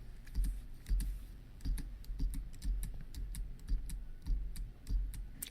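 Computer keyboard keys pressed in quick clusters while entering Audacity hotkey combinations, soft clacking taps in several bursts at close range with no talk.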